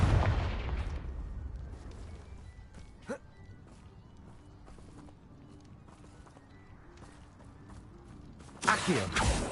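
A Confringo fire spell blasts in Hogwarts Legacy: a sharp explosive burst at the start, a smaller crack partway through, and another heavy blast near the end over quiet rumbling game ambience.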